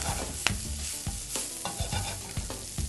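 Swiss chard greens wilting in a hot pan, a dense continuous sizzle broken by repeated stirring scrapes and clicks, close and loud with no voices.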